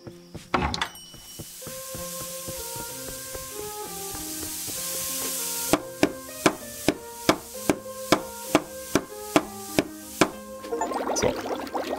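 A hoe chops in the tavern-management game Ale & Tale Tavern, a steady run of about a dozen evenly spaced sharp hits over layered game music, with a hissing, fizzing swell at the end.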